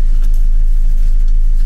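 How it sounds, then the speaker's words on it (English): Steady low engine rumble inside a large local bus in Montenegro, running continuously and loud with passengers aboard, no talk in the moment. "All right, so we're on a new bus now."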